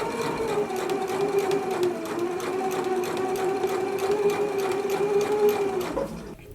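A sewing machine top stitches bias tape on a Simplicity 9010 holiday dress, running as one steady, close whirring hum for about six seconds before stopping.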